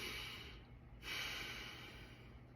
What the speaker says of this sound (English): just breathe in and out through your nose